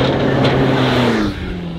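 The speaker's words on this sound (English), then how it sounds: "The old Vanagon is back on the road." A VW Vanagon converted to a turbocharged Boxer TDI diesel engine drives along a road, its steady low engine drone and tire noise loud and close throughout, easing off slightly near the end.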